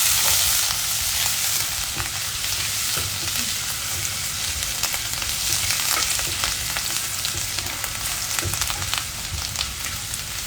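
Ginger sizzling and frying in hot oil in a pan for kofta curry, a loud, steady crackle that runs alone throughout with no voices.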